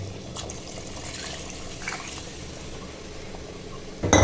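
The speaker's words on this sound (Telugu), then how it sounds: "సాంబారు తగినంత కొద్దిగా నీళ్ళు వేస్తాం" Water poured into a pot of Andhra-style sambar made with cooked dal, a steady soft splashing and trickling that runs the whole time at close range, ending in a louder clatter.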